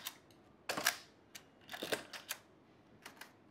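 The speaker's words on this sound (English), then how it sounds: "This is a leaf shutter, right?" A camera's leaf shutter fires, giving several crisp mechanical clicks and snaps spaced unevenly in quiet surroundings.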